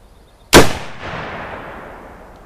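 A single loud Duck Foot pistol gunshot fired outdoors while hunting pests near farm buildings: a sharp, sudden blast followed by a long decaying echo that rolls away over about two seconds, with no talking.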